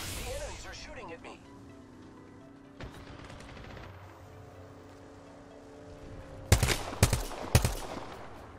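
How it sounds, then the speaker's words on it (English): Video game gunfire from enemies, first as scattered distant shots and mechanical clatter, then three loud close cracks near the end, with a player's voice heard talking over it. "The enemies are shooting at me."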